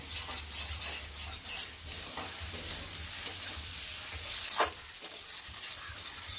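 Food being stirred in a pan while cooking a fish curry, with soft scraping and light sizzling under a low background hum, and an occasional sharper clink of utensil against the pan.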